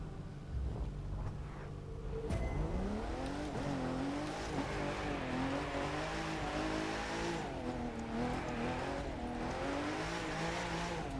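A car drifts sideways in The Crew 2 racing game, the engine revving loud and continuous with shifting pitch and a steady tire squeal running underneath throughout.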